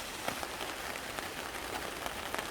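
Steady rain falling outdoors on a cool day near ripening rice fields, a dense even patter with a few slightly louder drops, continuous and moderately close throughout.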